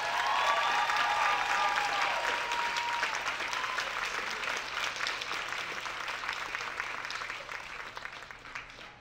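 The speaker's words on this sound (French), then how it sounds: "Et franchement, applaudissez pour lui, s'il vous plaît." Sustained audience applause at a college stage performance event, loud and dense from the start and gradually thinning toward the end, with no talking over it.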